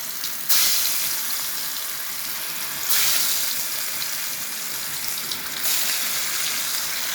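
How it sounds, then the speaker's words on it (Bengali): Taro slices marinated in coconut milk frying in oil in a pan, a loud, steady close sizzle with a few brief surges as more pieces go in, no talking. "এখন ফ্রাই প্যানে তেলের সাথে দিয়ে দিব।"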